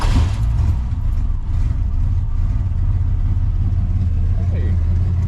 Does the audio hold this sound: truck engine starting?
yes